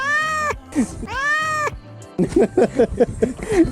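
A cat at a campsite gives two long, drawn-out meows, followed by a quick run of shorter, choppier mews, loud and close.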